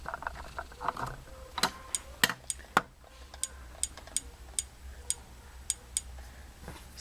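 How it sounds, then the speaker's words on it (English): A small Eagle Arion speaker being tested gives off sharp, isolated clicks at a steady, evenly spaced pace over quiet room hiss, with no talk. "So hopefully you can hear that clicking noise"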